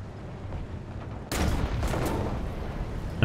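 Cannon fire from a BMP-1 and an enemy tank in War Thunder, a sharp loud shot breaking through a low engine rumble and followed by rolling reverberation and smaller cracks.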